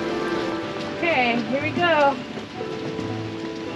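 Rain on a treetop skywalk in the Great Smoky Mountains, Tennessee, a steady close patter under a brief spoken phrase from a person nearby.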